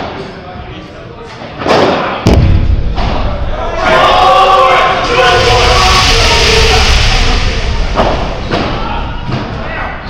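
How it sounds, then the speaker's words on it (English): A padel video game crowd erupts after a kick smash: a sharp thud of the shot, then a loud swelling cheer and roar that builds and holds for several seconds before easing off. "listen to the crowd's reaction"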